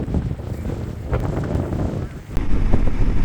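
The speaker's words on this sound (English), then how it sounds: "Very windy today." Strong wind buffets the microphone during a stop on a motorcycle group ride, a steady roar with gusts that surge louder near the end.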